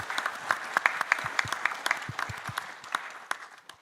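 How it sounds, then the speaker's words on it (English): A modest audience claps for conference panelists at the end of a discussion session, scattered distinct handclaps of a smallish group, sharp and irregular, fading slightly toward the end. "So big applause for the panelists"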